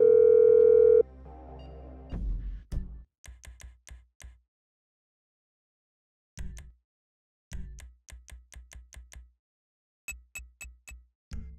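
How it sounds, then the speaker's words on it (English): A telephone dial tone hums steadily at the start, then breaks off into a series of short, evenly spaced clicks and beeps in several separate bursts, like a number being dialed. "I'm making a call."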